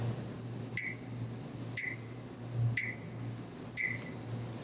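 A metronome app ticks at 60 beats per minute, giving four evenly spaced sharp clicks one second apart over a faint steady hum.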